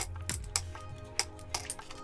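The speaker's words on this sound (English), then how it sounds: "add in the ice" Ice cubes dropped into an Aeropress Puck Puck cold brew vessel, giving several sharp clinks and clatters at uneven intervals, close and moderately loud with a low background hum.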